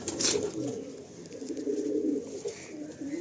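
A Madrasi pigeon coos in a low, throaty, repeating murmur, close and fairly steady for a few seconds without talk.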